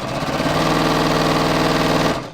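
Sewing machine stitching a dress seam, running steadily at speed with a fast, even mechanical whir for a couple of seconds before stopping abruptly, close and loud, with no talking.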